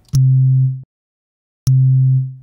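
Two deep synthesized 808 kick drum hits, each with a sharp click at the start and a sustained low boom, separated by a brief silence.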